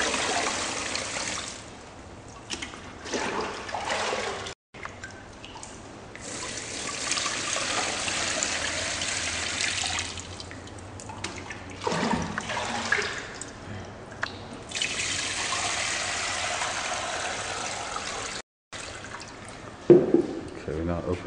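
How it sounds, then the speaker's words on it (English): Raw water poured onto the membrane screen of a rural water treatment unit, a steady splashing trickle with brief breaks and voices talking over it. "Nandi will now pour raw water onto the screen."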